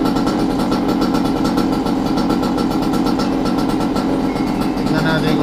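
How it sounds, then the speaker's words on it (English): A Goped GTR gas scooter's small engine idles steadily, a loud, even buzzing putter throughout, with a person talking over it. "Tignan natin kung gaano kababa yung idle niya."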